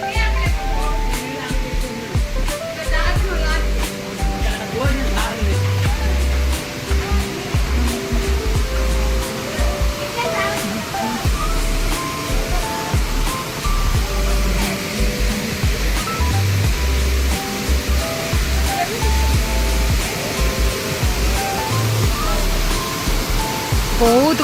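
Gandahati waterfall roars continuously, a loud, unbroken rush of falling water with a low rumbling undertone that stays level throughout.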